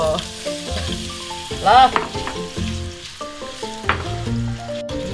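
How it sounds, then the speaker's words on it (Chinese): Potatoes stir-fry with garlic in a hot pan. A steady, loud sizzle and crackle runs throughout, with clatters of a spatula stirring, and one brief spoken word near the start. "蒜已经爆香了，下土豆"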